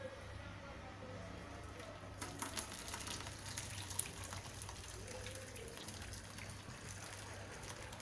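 Curdled milk for homemade paneer is poured through a clean cotton cloth into a strainer, giving a steady, faint trickle and splash of draining liquid that runs throughout.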